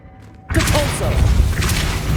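Depulso force spell cast in Hogwarts Legacy, a sudden loud blast that erupts after a moment of quiet and holds as a rushing, thudding burst with a swirling magical shimmer.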